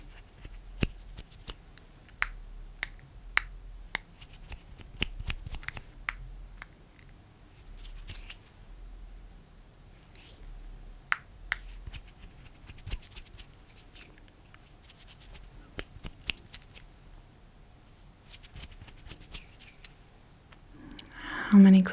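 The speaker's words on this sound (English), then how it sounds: "How many clicks was that?" ASMR clicking sounds made close to the microphone, sharp isolated clicks in small groups separated by quiet pauses, with soft handling noises between them.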